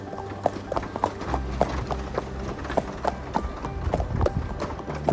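Two horses walking on a horse-powered treadmill that pumps water, hooves thudding and clopping in a steady, uneven rhythm close by, with low mechanical rumble underneath.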